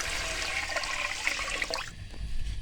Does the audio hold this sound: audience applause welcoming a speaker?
no